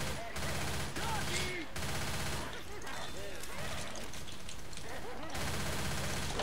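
Gunfire in the zombie shooter Left 4 Dead 2, dense rapid shots running continuously at low volume beneath other game noise, with players chatting over it.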